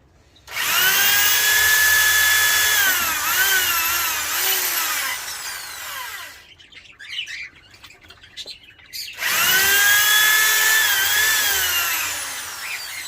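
Power drill running in loud, sustained bursts while building a budgie aviary cage indoors, with a pause in the middle; chirping budgies are audible through the drilling and in the quieter gap.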